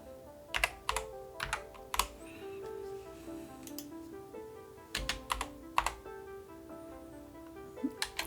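Typing on a computer keyboard: a few scattered clusters of crisp, close key clicks with short pauses between bursts, quiet and alone.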